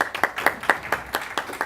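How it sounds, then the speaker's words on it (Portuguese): An audience at a youth subcommittee session of a finance and budget commission claps in a brief, fairly quiet burst of distinct, roughly rhythmic hand claps. "Uma salva de palmas para ela"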